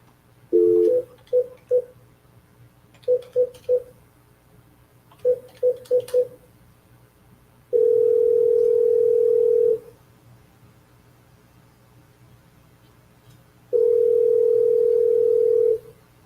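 Phone call ringback while waiting for someone to pick up: DTMF keypad dialing beeps in short quick clusters, then two long steady ring tones separated by silence, clear and alone with no talking.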